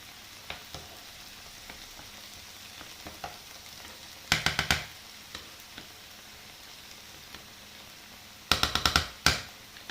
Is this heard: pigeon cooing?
no